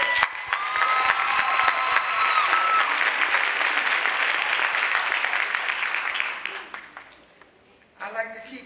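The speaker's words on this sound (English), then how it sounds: "Give yourself a round of applause." Graduating class and audience at a high school graduation ceremony burst into loud, sustained applause with some cheering, which fades out near the end before a voice begins speaking.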